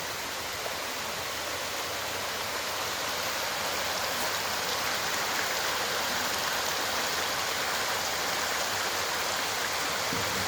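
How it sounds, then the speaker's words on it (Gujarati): Mountain stream on the Jatashankar path in the Girnar hills, water rushing in a dense, unbroken hiss that stays loud and close throughout, no speech. "ત્યાં જ તમને આ સરસ મજાનું ઝરણું જોવા મળશે."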